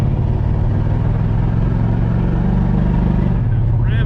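A 1992 Ford F150 truck engine runs loud and close, its low throbbing note rising and holding as if revved high with a transmission slipping, then dropping near the end, with possible talk mixed in.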